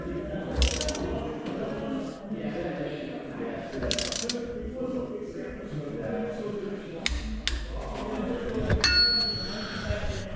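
A ratchet with an oversized socket tightens the rear hub nut on a Land Rover Defender during a hub rebuild, giving sporadic metallic clicks and clanks close by, with people talking over much of it.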